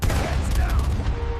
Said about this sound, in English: a single gunshot broke the silence